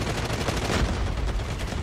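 Grenade blasts and heavy gunfire roar from the COD Mobile zombies mode, a dense, loud, continuous barrage of rapid bursts with no pauses.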